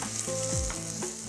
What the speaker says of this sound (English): this is exactly what you want to hear, the sizzling onion into the oil